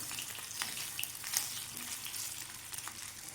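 Curry leaves, mustard seeds and urad dal stirred in hot oil for an evening snack, a faint, even crackling sizzle with small popping bursts throughout.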